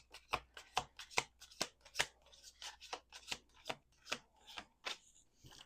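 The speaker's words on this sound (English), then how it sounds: "We're going to do 2 more shuffles." Tarot cards riffle and snap in a quick series of sharp, close bursts, about a dozen in steady rhythm, with no talking.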